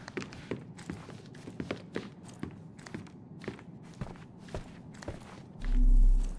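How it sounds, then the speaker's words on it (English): Footsteps upstairs in the Sherlock Holmes: Chapter One video game, a steady series of muffled thuds from overhead over about six seconds, ending in a low boom. "I heard footsteps upstairs a second ago."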